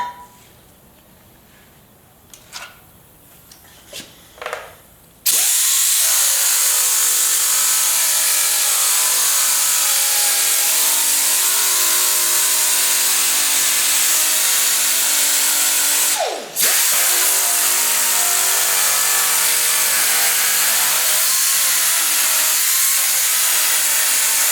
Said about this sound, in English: so I need to sand some of that off